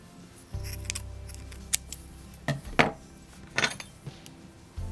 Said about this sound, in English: So now you just snip your yarn